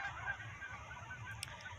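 Geese honk repeatedly at a distance, faint, steady calls over soft outdoor ambience with no talking.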